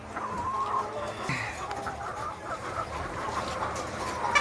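Laying hens cluck and chatter on a poultry farm, several birds calling in overlapping bursts at close range against a soft background murmur.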